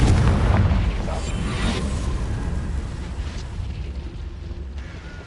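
A Confringo spell explodes in the video game Hogwarts Legacy, a heavy booming blast that opens loud and decays slowly into a rumbling tail, with no talking over it.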